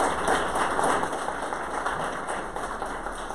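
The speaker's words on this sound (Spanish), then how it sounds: "Un aplauso." Moderate applause from a seated audience at a political party forum in Dolores Hidalgo, Guanajuato, a soft, steady patter of many hands heard somewhat distantly, tapering slightly.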